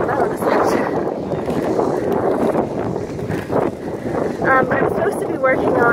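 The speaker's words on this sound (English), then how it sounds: "I hope you can hear me over the wind." Strong wind buffets a microphone outdoors at a roller skating spot, a loud, steady low roar that swells and dips throughout with no break.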